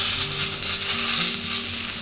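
Mushrooms sautéing in a hot pan give a dense, continuous close-up sizzle that holds at an even level throughout, with no talking.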